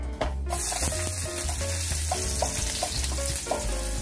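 Garlic frying in a pan for beef broccoli, a loud steady sizzle close up with occasional stirring scrapes and clinks over it.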